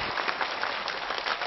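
A live audience at a comedy stage show breaks into steady, continuous applause, a dense wash of clapping at even volume with faint cheers mixed in.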